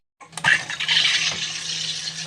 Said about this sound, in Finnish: Ykkösellä semmonen iso lasillinen hiilihapotettu vettä.